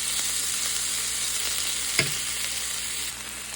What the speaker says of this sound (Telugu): చూడండి, ఇలా వేగాలి.